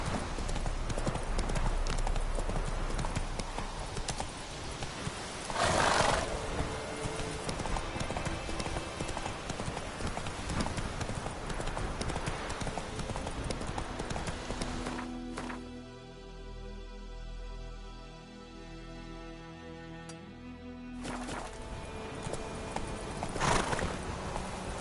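Roach, the horse in The Witcher 3: Wild Hunt, gallops with rhythmic hoofbeats over steady game ambience and gives a couple of loud neighs, one early and one near the end.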